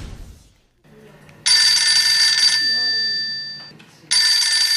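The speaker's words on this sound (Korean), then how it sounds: "휴대폰의 벨소리는 79데시벨까지 올라가네요" A mobile phone ringtone, measured at 79 decibels, plays in two loud, bright electronic bursts separated by a pause, with a faint low hum underneath.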